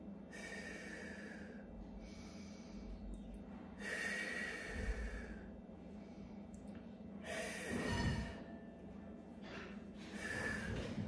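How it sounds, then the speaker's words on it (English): Deep, steady breathing during a seniors' stretching and mobility exercise with a band, several long inhale-exhale cycles in a regular rhythm, fairly close and clear with no talk. "Nice deep breaths."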